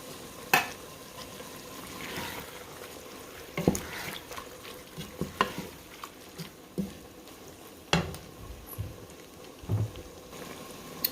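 Diced tomatoes with green chilies being stirred in a cooking pot, giving soft scraping and sloshing strokes at an uneven pace over a low, steady simmer, with no voices.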